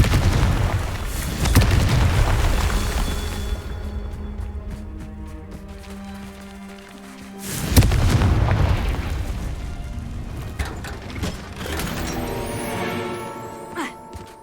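Confringo explosive spell blasts in the Hogwarts Legacy video game: two heavy booming explosions about six seconds apart, each rumbling and trailing off under tonal game music.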